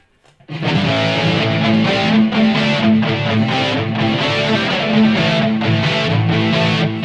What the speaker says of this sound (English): What you're hearing now is strictly the Marshall Plexi 1959,